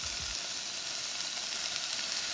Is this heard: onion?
yes